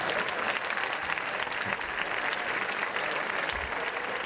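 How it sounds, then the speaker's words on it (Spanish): Sustained audience applause at a San Mateo festival presentation fills the whole stretch, a thick, even roar of many hands clapping. "Fuerte aplauso para ellos también."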